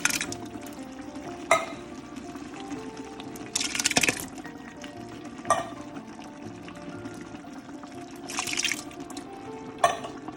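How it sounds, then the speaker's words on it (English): Diced tomatoes with jalapenos go into a pan of sauteing food, bringing a soft wet sizzle under a quiet background, with several brief splashy bursts and a few clinks of a spoon against the pan. "Now I'm gonna put some diced tomatoes with jalapenos."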